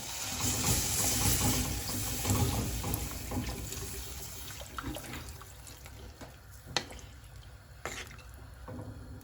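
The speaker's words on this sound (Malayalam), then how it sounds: "ആ ഒരു സമയത്ത് ഇതാ നമ്മളെ വെള്ളം അതിൻ്റെ അകത്തേക്ക് ഒഴിച്ചു കൊടുക്കുകയാണ്" Water poured into a Kerala-style king fish (ayakoora) curry gives a steady, fairly loud wash of splashing at the start, thinning into softer trickles and a few clinks by the end.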